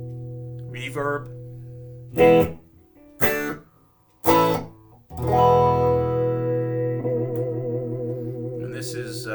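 Electric guitar played through a Fender Champion II amp with reverb switched on: a few separate plucked notes and chords ring out with lingering tails, then a sustained strummed chord holds, loud and close.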